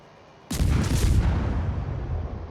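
A warship's guns fire in a naval battle video game: a sudden heavy boom after a brief quiet lead-in, followed by a long, rumbling roar that slowly fades.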